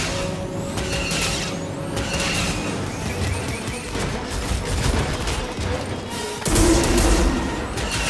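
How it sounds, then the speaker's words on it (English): Sci-fi battle gunfire from an AT-AT style walker blasting a ship in Star Wars Jedi: Fallen Order, a dense, continuous fusillade of shots and crashing impacts that swells louder near the end, mixed with rumbling mechanical noise. "We've got a walker firing on us, and our weapons are down."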